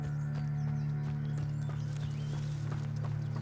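Horse hooves clip-clop at a steady walking pace in the video game Hogwarts Legacy, fairly quiet over a constant low ambient hum.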